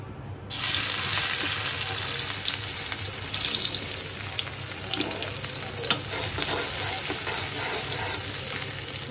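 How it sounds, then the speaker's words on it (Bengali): Onions go into hot oil in a wok with a sudden loud hiss, then a steady, dense sizzle of frying that continues evenly throughout. "আর আমি কড়াইতে একটু তেল দিয়ে দিয়েছি, এখন একটু পেঁয়াজ দিয়ে দিব এখানে"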